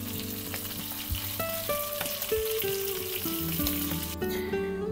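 Food fries in cooking oil with a constant crackling sizzle, heard alongside a tuneful melodic backdrop that plays over it without pause.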